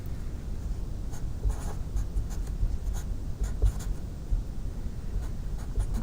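Pen or marker scratching across a surface while drawing a carbohydrate molecule diagram, a close, steady run of short strokes and taps over a soft background hiss.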